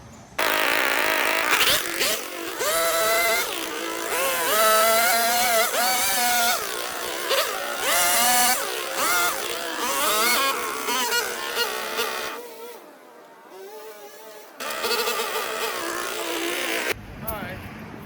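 A two-stroke string trimmer works through heavy brush on an overgrown property, its high buzzing whine rising and falling as the throttle changes, loud and close, cutting out briefly near the end before starting again.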